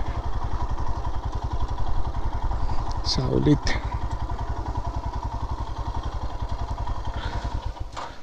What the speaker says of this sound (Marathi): इथे कुठेतरी छान पार्क करूया बाईक